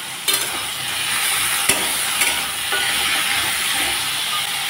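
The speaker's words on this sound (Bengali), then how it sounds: "এখন আমি কচুগুলো দিয়ে দিচ্ছি।" Boiled taro, cooked with salt and turmeric, goes into a hot pan and is stirred, giving a steady close sizzle with a few sharp utensil scrapes and clinks.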